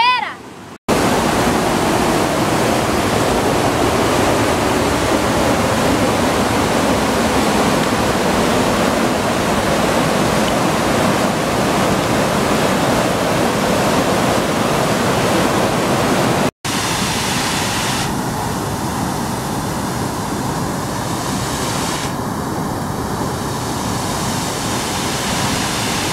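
Steady, loud rushing roar of falling water fills the whole clip, a continuous broadband wash that dips briefly twice.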